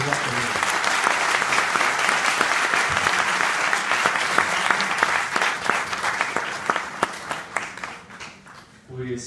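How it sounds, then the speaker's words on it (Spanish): A crowd bursts into loud, sustained applause, dense clapping holding steady for several seconds before thinning out toward the end. "demos un fuerte aplauso"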